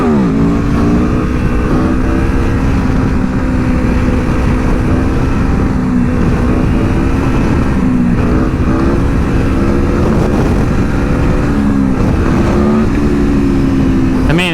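A 2021 Aprilia Tuono V4 Factory, 1100 cc, roars continuously up close while ridden, its revs rising and falling under wind rush as it accelerates.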